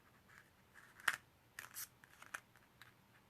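Scissors snip out pieces of gold card stock in a few quick, crisp cuts, close and fairly quiet, with short pauses between the snips.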